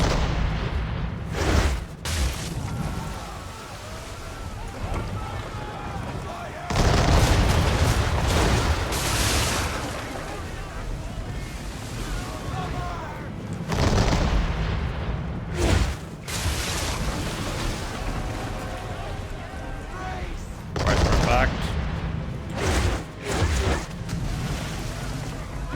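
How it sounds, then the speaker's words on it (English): Repeated heavy booms of naval cannon fire from enemy ships in Assassin's Creed 3, loud and rumbling in several bursts over a continuous low battle din. "Now they're going to shoot."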